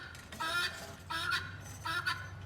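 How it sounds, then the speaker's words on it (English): Guinea fowl calling in three loud, harsh bursts of rapid honking cries at a farm where Mangalitsa steak is being cooked, each burst lasting about half a second, with a low steady hum between them. "I cannot believe them guineas are gonna come back through here again"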